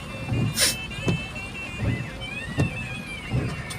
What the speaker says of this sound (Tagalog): Traffic dito, ang daming sasakyan, oh.